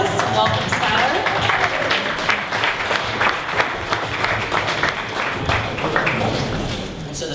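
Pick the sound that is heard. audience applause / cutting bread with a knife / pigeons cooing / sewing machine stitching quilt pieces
audience applause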